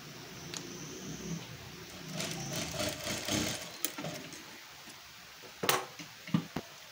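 A sewing machine hums through a stretch of stitching on blouse tucks for a size 34 katori blouse, a low steady whir that rises and fades, followed by scattered sharp clicks and handling taps.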